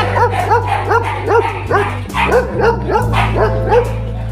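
A large dog barks repeatedly in quick, rhythmic bursts, close and loud, over a steady low hum.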